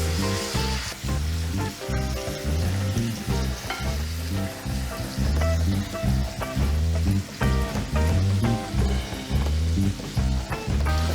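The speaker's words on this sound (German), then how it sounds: "Und während das Ganze brät, tue ich jetzt Speck mit dazu." Bacon sizzles and crackles steadily in a hot pan alongside frying burger patties, with a continuous, loud spitting hiss and rhythmic stirring or scraping sounds close up.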